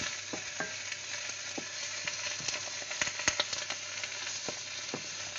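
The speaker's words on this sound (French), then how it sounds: "Je vais tourner pour pouvoir mélanger." Sauce graine being stirred in a frying pan, a steady sizzle of frying with scattered scraping and clicking strokes of the utensil against the pan, no voices over it.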